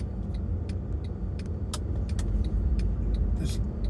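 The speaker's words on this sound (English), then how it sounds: "There's really bad traffic." Steady low rumble of city street traffic in San Francisco, with cars idling and passing close by and scattered clicks and small clatters on top, continuous throughout with no talk.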